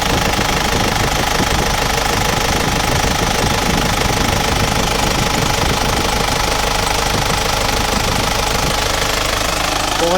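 Isuzu truck diesel engine at about 300,000 km, running cold while it blows heavy vapour from the breather, gives a loud, constant knocking clatter close by for the whole stretch, with no talk.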